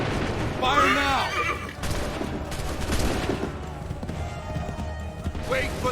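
Video-game gunfire volleys fired on command, bursts of shots and booms under repeated shouted orders, loud and close, with broadband blasts clustered around several moments.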